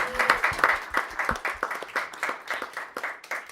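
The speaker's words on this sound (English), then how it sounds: "Let's give a round of applause for that truth right there." An audience at a retreat panel claps in a short burst of scattered, moderately loud handclaps that stays fairly even and sparse.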